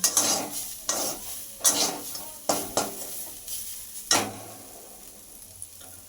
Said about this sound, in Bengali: দিয়ে ভালো করে শাকের সঙ্গে মিশিয়ে নেব